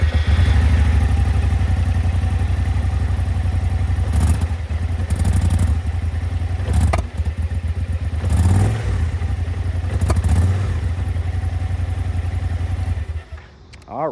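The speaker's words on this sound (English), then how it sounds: "it is a cross-plane crank, so you do get a pretty nice exhaust note when you start it up" An AK 550 Premium's cross-plane crank engine rumbles loudly and steadily, with brief rises as it revs, then cuts off near the end.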